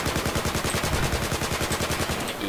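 Rapid automatic gunfire from a low-recoil weapon in the video game Battlefield 4, a fast even burst of loud shots for over two seconds with no speech.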